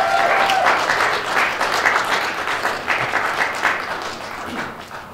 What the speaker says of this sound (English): Please join me with a big round of applause welcoming the newest member of the NMAA Hall of Fame, Mr. Wayne Ferguson